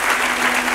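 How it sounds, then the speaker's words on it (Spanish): A church congregation applauds during a sermon, heard as a brief, loud, steady wash of many hands clapping, alone without speech. "Den un aplauso al Señor,"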